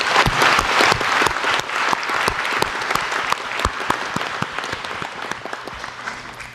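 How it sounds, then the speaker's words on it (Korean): Citizens at a Daejeon public report meeting on science and technology applaud as lawmakers are introduced, a loud burst of crowd clapping with distinct nearby claps that gradually thins and fades over several seconds. "박수 한번 부탁드립니다."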